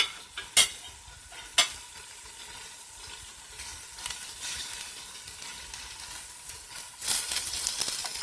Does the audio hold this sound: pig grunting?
no